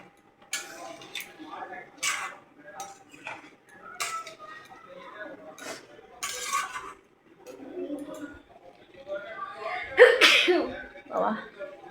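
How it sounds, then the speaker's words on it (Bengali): Someone cooking green jackfruit curry with spices frying in the pan lets out several sharp, fairly quiet coughs spread over the stretch, with light kitchen clatter between the bursts and a voice talking. "এমন মশলা কষিয়েছি কাশি চলে আসছে।"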